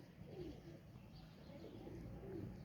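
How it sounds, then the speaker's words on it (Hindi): Soft, low cooing of a Sialkoti pigeon repeats in a few short phrases over a steady murmur of background noise, faint and somewhat distant. "ये हैं जी सियालकोटी कबूतर"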